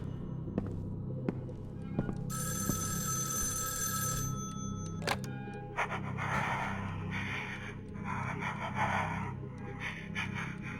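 A telephone rings in the horror video game The Evil Inside, a bright trilling ring lasting about two seconds amid eerie ambient noise, creaks and scraping sounds.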